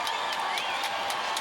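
A basketball arena crowd at a Fever versus Dream game cheers and roars in a steady, dense wash, with scattered whoops rising above the noise.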